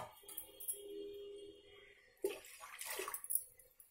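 Water poured from a glass onto washed proso millet in a pot for sweet millet payasam, a splashing pour that starts suddenly partway through and runs on with some clinks.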